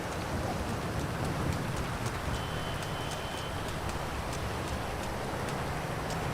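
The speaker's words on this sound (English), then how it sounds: "It's raining." Rain falls in the video game GTA 5 Online, a steady soft hiss of droplets that runs evenly throughout, with a few faint ticks and a thin tone near the middle, no voices.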